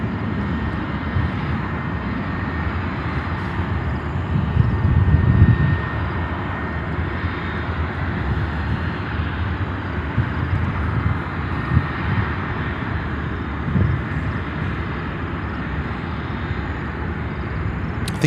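A plane takes off or lands at Chicago O'Hare airport, its engine roar a steady, loud, broadband rumble that holds throughout with a slight swell partway through.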